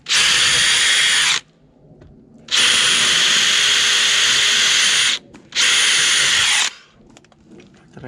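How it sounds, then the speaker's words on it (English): A power drill whirs loudly in three sustained bursts, each a few seconds long, separated by short pauses with quiet handling noise. "I suspect I will need my drill bit in here too."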